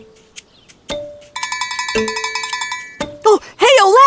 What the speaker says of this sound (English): That's the sound of your bell!